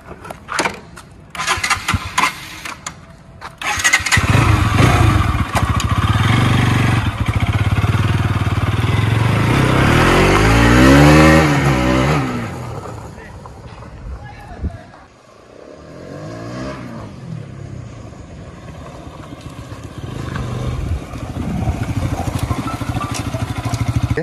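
A Bajaj Pulsar RS200 motorcycle engine with its stock silencer fires up and revs hard several times, loud and close, then settles toward an idle before climbing again.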